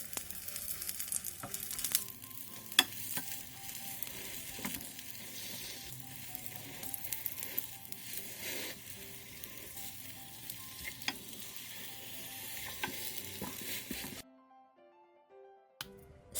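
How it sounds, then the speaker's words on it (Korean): Egg mixture sizzles steadily in an oiled pan over medium-low heat while it is rolled up, with light scraping and tapping from utensils, then the frying suddenly goes quiet near the end. "팬에 기름을 두른 뒤 계란물을 조금씩 부어가며 중약불에서 계란을"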